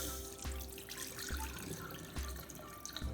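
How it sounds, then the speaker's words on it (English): Rice being washed by hand under a running kitchen faucet, a steady close splash of water into a bowl with soft rhythmic swishes and periodic thumps as the grains are stirred, no talking. "you wash it until it's clear"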